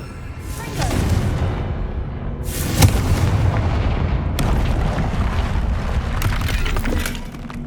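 A Bombarda blasting spell explodes in Hogwarts Legacy, a sustained rumbling boom with crackling debris and a sharp burst near the middle, loud and close, with a second surge of blast noise rolling on afterward.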